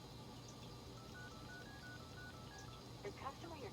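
A string of short, faint telephone dial tones in the horror game Unheard, about half a dozen evenly spaced beeps, followed by a brief murmur at the end.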